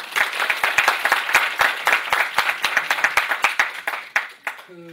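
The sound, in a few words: applause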